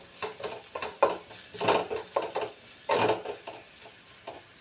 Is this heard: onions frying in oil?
yes